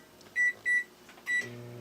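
A microwave oven beeps three times in quick succession, a clear close electronic tone at each key press while cooking spaghetti squash, then the low hum of the oven starting up follows.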